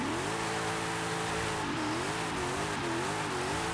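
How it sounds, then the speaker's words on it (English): A car doing a burnout in the racing video game Forza Horizon 5, rear wheels spinning almost in place: a loud, continuous engine drone with wavering pitch, mixed with scrubbing tire noise. "So that's burnout"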